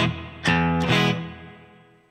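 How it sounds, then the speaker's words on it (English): Guitar played through a Line 6 HX Stomp with a '63 spring reverb: two sustained, distorted chords rung out in sequence, each ringing and slowly decaying into a washy reverb tail, with no voices. "I'm going to use the 63 spring reverb. See how that sounds."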